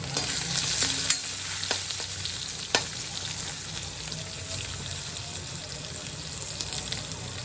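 Mustard seeds, crushed garlic, green chillies and onion fry in oil in a kadai, a continuous sizzle broken by a few sharp clinks and spoon scrapes, quieter after the first seconds.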